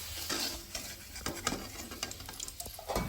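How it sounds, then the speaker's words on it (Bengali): Onions crackle and sizzle as they fry in hot oil for a chicken biryani, with a spoon stirring and scraping the pan in irregular bursts, close and steady without talk. "ভাজতে ভাজতে পেঁয়াজ যখন এরকম ভাজা হয়ে আসবে"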